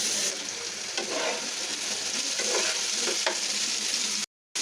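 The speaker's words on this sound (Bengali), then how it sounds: "এখন আমরা বেগুনগুলি ভাজবো।" Eggplant pieces fry in oil in a pan, a dense, even sizzle close up with faint stirring ticks, cutting out abruptly to silence for a moment just before the end.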